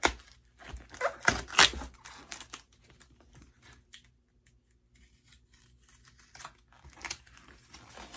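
A well-packaged box being opened for an unboxing: close scraping and cutting, tearing and crinkling of packing material in irregular bursts, louder at first, then a quieter stretch before more rustling.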